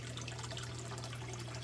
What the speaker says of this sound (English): you can see the water running through, and then it dumps into the bottom